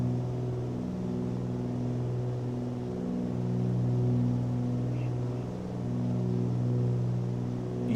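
Twin piston engines of a Cessna 414 hold continuous climb power, about 35 inches manifold pressure and 2500 RPM, a loud, steady, close droning hum with layered harmonic tones that swell slightly across the whole stretch.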